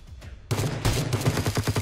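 A burst of rapid gunfire erupts in a battle royale video game after a faint opening shot, then continues as a string of sharp, evenly spaced shots, loud and close.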